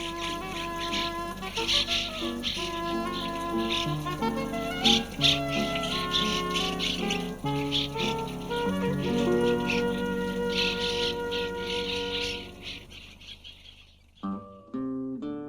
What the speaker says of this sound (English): Many varieties of birds are found here, including these noisy swallows.